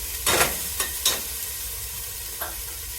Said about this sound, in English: I'm just going to add that in, and it will sizzle because the pan is low to medium.